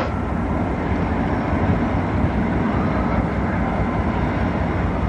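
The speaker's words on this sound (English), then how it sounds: "That's a train." A train passing in a city, a loud, steady, broadband rumble and roar that holds evenly throughout without a break, no voices.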